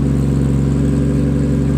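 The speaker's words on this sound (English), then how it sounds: "I gotta rev the shit out of it" A Nissan 240SX S14 with a swapped RB25 engine and a standalone ECU drones loudly and steadily near its limiter, a constant, rich engine tone held without a break.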